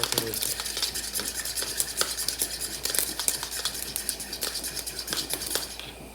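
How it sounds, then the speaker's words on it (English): Rapid, continuous clicking of a whisk against a bowl, close and fairly loud, with a constant kitchen hum underneath as bacon cooks nearby; no voices. "we're going to go ahead and whisk this up"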